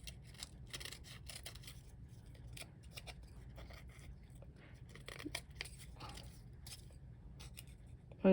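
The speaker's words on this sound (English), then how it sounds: "So let's just cut the excess off on this one." Scissors snip repeatedly at the excess trimmed from a popsicle stick bookmark, a run of quiet, close crisp cuts in a soft irregular rhythm, with no talking.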